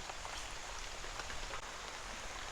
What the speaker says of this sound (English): it started pouring down even harder